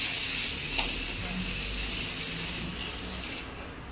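Insecticide spray can released in a bathroom against flies, giving a steady, close broadband hiss that runs for several seconds and cuts off near the end.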